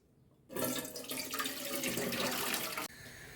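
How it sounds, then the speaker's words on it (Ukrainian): Water gushes from jars of cucumbers into a pot in a loud, steady stream for a few seconds, then abruptly stops, leaving a faint trickle. "Тепер буду зливати воду в каструлю."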